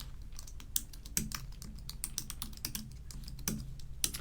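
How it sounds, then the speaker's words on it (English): Rapid, irregular clicks of a computer keyboard being typed on, with bursts of close keystrokes and short pauses, crisp and fairly quiet over a low room hum. "let's see if I can type it in."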